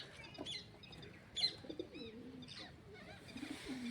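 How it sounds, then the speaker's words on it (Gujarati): Soft pigeon coos mingle with brief wing flaps and light chirps, fairly quiet and nearby, as several birds settle down. "મિત્રો જોઈ શકો છો આપણા ઘણા કબૂતર નીચે આવી ગયા છે સણમાં"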